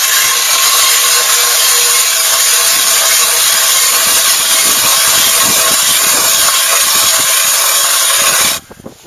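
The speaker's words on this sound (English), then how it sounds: "We'll drill a hole right next to that hole." An 8-inch ice auger bores a hole in ice, a loud continuous grinding, rasping whir that runs steadily for about eight seconds and then cuts off abruptly.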